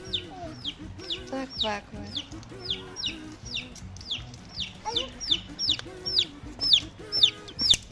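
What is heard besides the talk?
baby chicks chirping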